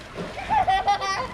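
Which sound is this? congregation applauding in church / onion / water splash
water splash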